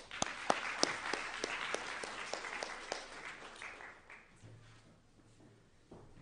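An audience applauds in welcome, a dense burst of clapping with a few sharp claps standing out, fading over several seconds into quieter room noise.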